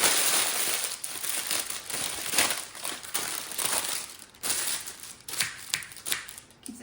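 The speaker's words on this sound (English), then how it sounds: "Because it rolls like that, I'm going to crumple it up." A sheet of parchment paper is crumpled by hand in a baking kitchen, giving continuous close crinkling and crackling that swells and eases in bursts over several seconds.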